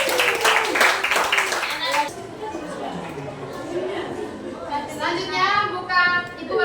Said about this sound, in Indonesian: Tepuk tangan dulu untuk ketua kelasnya kita.